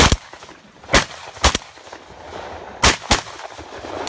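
Shotgun blasts during a backyard goose hunt: five sharp, loud reports in two clusters, a pair then a single, then another close pair, with quiet outdoor background between.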